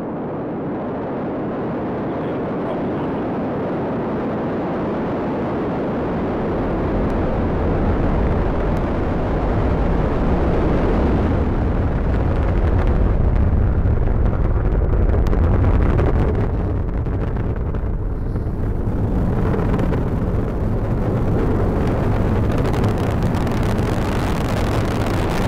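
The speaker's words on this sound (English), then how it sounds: "And liftoff as Falcon 9 and Cargo Dragon take flight" A SpaceX Falcon 9 rocket carrying a Cargo Dragon lifts off on the CRS-16 mission: a distant, broad roar that swells after a few seconds into a sustained, crackling rumble, buffeted by wind on the microphone.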